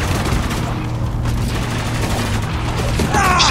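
Sustained automatic turret fire in the video game Spec Ops: The Line, with heavy rapid shots blending into a continuous loud roar and a brighter burst near the end.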